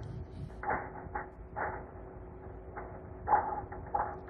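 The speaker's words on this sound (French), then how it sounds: "Voilà, ça, c'est le bruit d'un iceberg." Faint cracking and creaking pops come in scattered bursts against a steady low hum, sounding distant and muffled, like ice breaking heard underwater.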